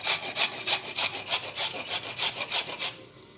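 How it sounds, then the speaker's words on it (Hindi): Peeled beetroot is rubbed by hand against a grater in a home kitchen, giving about a dozen quick, even rasping strokes in steady rhythm that stop abruptly near the end, close and clear with no talking. "अब हम इस तरह से यहाँ पे घिस लेंगे।"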